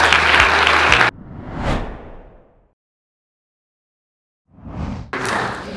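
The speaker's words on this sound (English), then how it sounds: "One last round of applause for all our winners." At the Blues and Sport Awards 2024 ceremony, loud audience applause cuts off abruptly, leaving a fading swish into near silence before clapping swells back in at the end.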